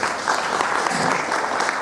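Audience applause for four people at a 2016 event in Malaysia, a dense, steady wash of many hands clapping at once, loud and continuous with no voices rising above it.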